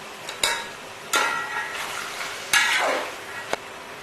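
Carrots and peas being stirred in a pan for chicken Chinese rice, giving a few distinct scraping strokes of a spatula against the metal over a soft, steady sizzle, with no talking.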